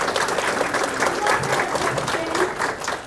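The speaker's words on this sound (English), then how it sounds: "Let's give her a round of applause." Steady applause from a book-event audience for an author's guest, dense and continuous throughout with some crowd murmur mixed in.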